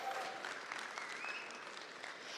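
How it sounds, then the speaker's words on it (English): Audience at a main-stage tech conference livestream bursts into steady, dense applause, a sustained wash of clapping from a large room that fades slightly toward the end. "Big round of applause, please."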